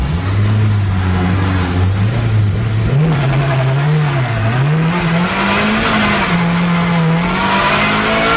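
A very light Metro fitted with a K20 engine accelerates hard and loud from up close, its revs rising and dropping repeatedly as it snaps quickly through gear changes with no pauses in the engine note.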